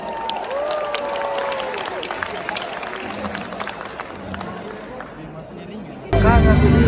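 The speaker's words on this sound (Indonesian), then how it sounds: "Boleh tepuk tangan." A large audience claps and cheers at a band's 30th-anniversary concert, a dense, steady roar of applause and crowd noise with a voice talking over it, swelling louder at the very end.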